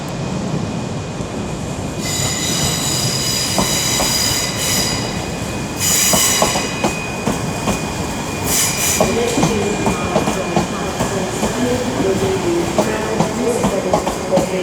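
A ScotRail train rolls through Glasgow Queen Street station, wheels squealing and clattering steadily over the rails in a busy platform setting, with a continuous rumble and bright screeches across the whole stretch.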